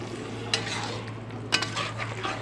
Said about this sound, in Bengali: বাকি মশলাটা দিয়ে মাংসটাকে কষানো চলছে